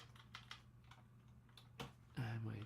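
Computer keyboard typing while writing Python code, scattered soft clicks under faint background hum, building to a denser, louder burst of keystrokes at the end.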